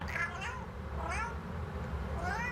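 A cat meows three times in separate, rising-and-falling calls spaced about a second apart, close and clear over a low steady background hum.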